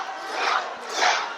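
A wrestling crowd at a CCW Anniversary 20 match in Port St. Lucie, Florida, roars in two swelling waves of cheering and shouting after a kick-out, loud and broad throughout.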